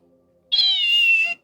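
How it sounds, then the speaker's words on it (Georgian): A toy cat gives a single electronic meow, bright and close, lasting under a second against an otherwise quiet background. "ნახე ეს როგორ კნავის."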